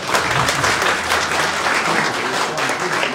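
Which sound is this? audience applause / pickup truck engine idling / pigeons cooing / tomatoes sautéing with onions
audience applause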